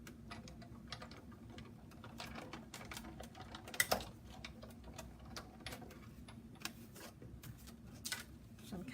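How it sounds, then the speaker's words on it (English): A die cutting machine running cardstock through a stitched circle die makes a steady, low mechanical rolling hum with faint clicking ticks throughout, one sharper clack near the middle, at a quiet, close level with no talking. "we're just going to run it through and die cut it"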